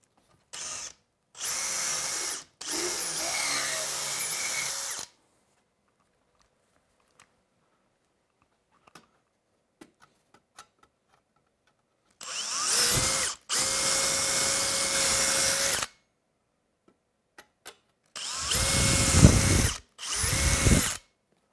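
A power drill bores holes for fitting extra ballast weights on a VRS 16, running in several loud bursts that stop and start, with near silence and faint clicks between them.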